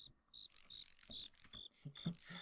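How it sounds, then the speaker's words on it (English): Crickets in Minecraft with the Mo Creatures mod give repeated short high chirps, fairly faint, mixed with other soft game sounds and no talk. "I love the crickets and grasshoppers and stuff in Mo Creatures"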